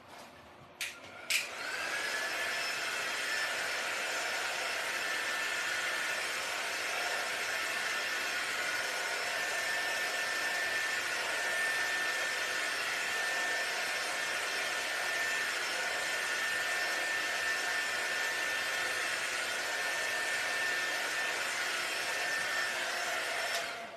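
A hair dryer runs steadily to dry handmade black and white Christmas tree ornaments, a loud continuous whir with a faint high whine that holds for over twenty seconds after a couple of brief clicks at the start.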